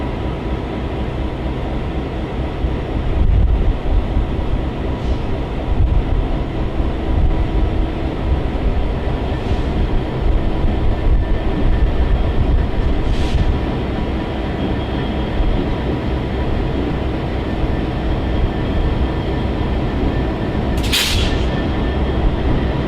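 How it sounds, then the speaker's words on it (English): Amtrak P42 locomotive-hauled train slowly creeping past a yard office in a rail yard around 1 a.m. in sub-zero cold, a steady low rumble throughout with a few faint squeals and a brief sharp metallic screech near the end. "we watched as the train slowly crept by the yard office in sub-zero temperatures"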